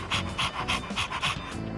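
Dog panting in Persona 3 Reload, a quick rhythmic series of about seven breathy pants, close and clear, with no talk over it.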